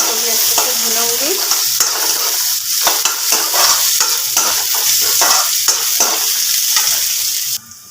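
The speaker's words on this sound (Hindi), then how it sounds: "करके प्याज को भी अच्छे से भूनूंगी।" Chopped onions frying and being stirred in a pan for a Hindi chana dal recipe, with a steady sizzle throughout and repeated scraping and stirring clatter, close and continuous.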